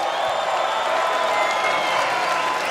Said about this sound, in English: let's have a round of applause for a hard-fought 3 rounds